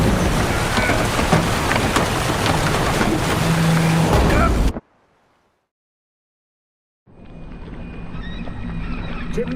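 A boat heaving through a stormy sea in The Witcher 3, with loud rushing water and rain that cut out to silence for a few seconds, then return more softly.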